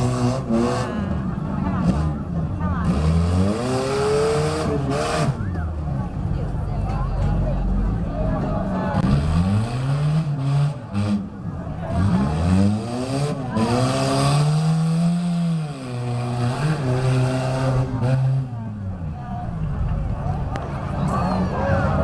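A 1993 Honda Civic revs its engine during a tuff truck run, rising and falling with repeated throttle surges at moderate distance, while an announcer and crowd chatter carry on over it.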